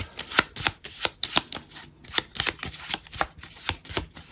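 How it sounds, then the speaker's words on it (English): Automa cards for a tabletop board game are shuffled by hand, with quick rhythmic riffling flicks repeating in a close, crisp run of bursts. "So let's collect our cards back up for Automa and shuffle them up."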